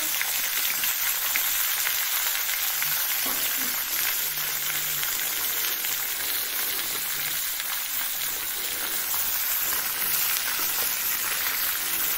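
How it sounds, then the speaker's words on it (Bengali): Pumpkin and potato pieces fry in a wok. A steady, close, dense sizzle with a bright crackle carries on evenly from start to end, with no talk over it. "তো চলো এটা কিছুক্ষণ ফ্রাই হয়ে যাক"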